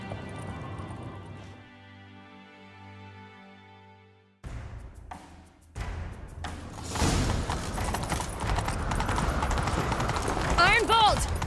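Horse hooves galloping in The Witcher 3: Wild Hunt, a quick clip-clop that starts partway through and builds loud and continuous over music and game ambience, with a voice talking near the end.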